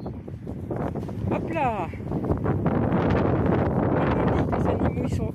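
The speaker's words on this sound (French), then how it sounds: "On a vu une véritable tempête de vent." Strong wind gusting across a garden during a storm, a constant buffeting roar against the microphone while someone speaks French over it.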